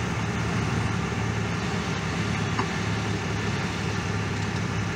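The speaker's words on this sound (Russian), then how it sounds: "Оп, машинка завелась." A big Dodge Ram pickup idles right after a jump start, its engine holding a steady, even low hum that stays unchanged throughout.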